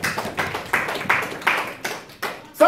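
A church congregation claps in steady rhythmic unison to acclaim Jesus, roughly three claps per second, fairly close and even, with no talking over it.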